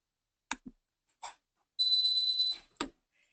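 An electronic alarm sounds one steady, piercing beep lasting under a second, framed by a few soft clicks and breaths in an otherwise quiet room.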